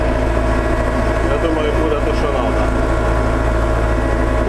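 A DTZ 504 tractor engine held at 1700 rpm, a dense, steady diesel drone with a strong low throb that runs unbroken and close at high volume.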